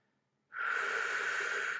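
One long, heavy exhale of breath during a reformer Pilates leg exercise, starting abruptly and holding steady for over a second before stopping. It sounds close and fairly loud, with no talking.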